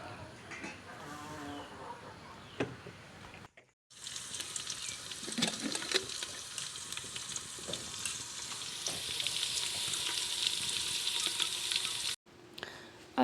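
Potatoes and chicken frying and sizzling in a pan over an outdoor wood fire in a village, a steady loud hiss with occasional stirring scrapes, following a quieter stretch of ambient background and a brief pause.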